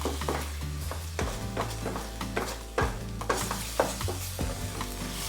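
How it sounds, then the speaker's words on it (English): Thai green curry paste stir-fried in a pan sizzles steadily while a utensil scrapes and stirs in repeated strokes, loud and close, with no voices. "Try to cook or stir fry your paste until it's cooked well before you add the meat into the paste"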